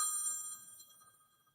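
Phone notification ding in a radio studio: a single faint, high chime that rings and slowly decays over about a second and a half, alone with no talk.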